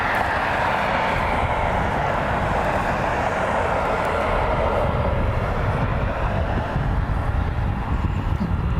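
A Mesa Airlines Air Shuttle plane heading for Dulles passes at Cleveland Hopkins airport with a loud, steady engine roar that fills the whole stretch.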